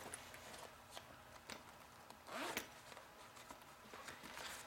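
A short, faint zipper pull on a Bible cover close by, with quiet rustling handling sounds around it.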